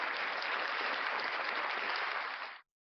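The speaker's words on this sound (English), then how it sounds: "Let's give my song a round of applause." A dense, even crowd applause lasting about two and a half seconds, then cutting off abruptly into silence.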